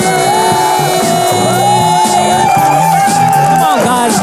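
Audience at a live poetry night in Houston shouting, whooping and cheering for the next poet, a loud, dense, continuous roar of voices with rising yells and whoops throughout.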